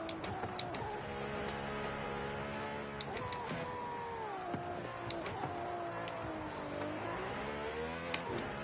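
An old McLaren's engine in Forza 5 drones and whines steadily, its pitch sliding up and down through gear changes and corners, with faint ticking clicks over the top.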